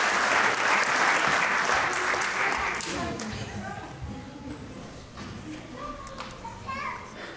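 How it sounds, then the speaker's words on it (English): Applause from the audience at a Hawaiian hoike show rises as a dense wash at first, then fades into scattered claps while children chatter and voices carry over the crowd. "please give them a round of applause"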